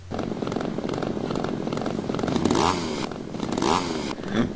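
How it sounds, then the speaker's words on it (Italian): A chainsaw runs in the video game MadFather as a young girl plays with it: a steady buzzing idle that swells into two or three short revving surges, fairly close and alone. "una bambina si mette a giocare con la motosega"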